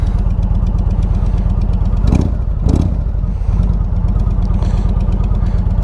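A big Indian Roadmaster motorcycle engine running close by with a steady, deep, throbbing pulse, with two brief louder revs or mechanical bumps near the middle and no talking.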